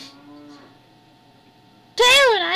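A cow in the video game Majora's Mask lets out one loud, wavering moo near the end, after a quieter stretch of soft tonal game sounds.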